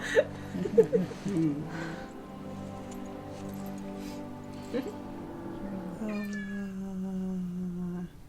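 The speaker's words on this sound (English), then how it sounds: "Oh, the kitty cat's there." A cat meows plaintively several times in a film scene, with music and voices under it.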